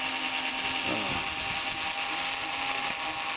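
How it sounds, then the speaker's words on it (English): A miniature Bosch power screwdriver backs screws out of a bass guitar bridge, a thin steady motor whine that runs for a few seconds under constant broadband hiss before cutting off. "I'm now removing the screws out of the bridge section using my trusty little miniature Bosch thingy"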